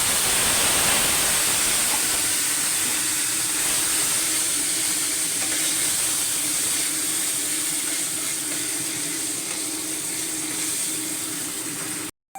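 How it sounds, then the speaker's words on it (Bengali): Dried red chili tempering and taro greens frying in hot oil, a loud, steady, close sizzling hiss that holds without pause for about twelve seconds and then cuts off abruptly. "এবার একটা শুকনো লঙ্কা ফোড়ন দেবো ফোড়ন দিয়ে দেবো কচু শাকটা আবার দিয়ে দেবো"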